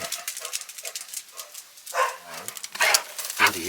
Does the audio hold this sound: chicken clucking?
no